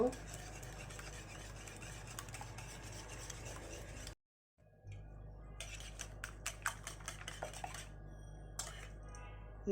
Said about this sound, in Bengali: আমি একটা হ্যান্ড বিটার দিয়ে বিট করছি